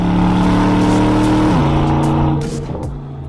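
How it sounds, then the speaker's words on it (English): An Aston Martin DBX with its exhaust in Sport Plus accelerates hard. The engine note climbs through the revs, drops at a gear shift and rises again, then fades slightly amid a few sharp exhaust pops near the end. "The exhaust system I like to have in Sport Plus because I like that more order content from the engine."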